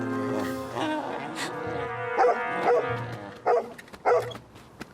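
A dog in an animated series gives a string of close, loud barks and yips with some whimpering tones, the calls coming in short separated bursts.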